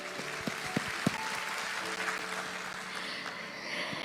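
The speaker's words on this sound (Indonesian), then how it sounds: "Kasih teman-teman tepuk tangan buat Tuhan." A church congregation applauds steadily during a service, the clapping dense and sustained, with a few sharper claps standing out near the start.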